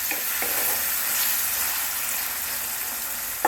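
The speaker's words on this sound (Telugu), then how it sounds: "ఈ అల్లం వెల్లుల్లిపాయ పేస్ట్ కూడా పచ్చివాసన పోయే వరకు ఫ్రై చేసుకోవాలి" Ginger garlic paste sizzles and fries steadily in a hot pan, a constant close hiss with a few faint stirring clinks.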